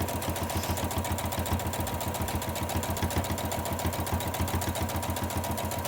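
A sewing machine runs a long line of stitching on a fabric face mask, its needle beating in a fast, even rhythm over a steady motor hum, close by and uninterrupted.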